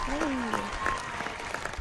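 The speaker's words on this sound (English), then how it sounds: "Let's give some applause to the homeboy." A small crowd applauds at a live show, a brief burst of clapping and cheering heard under a loud speaking voice.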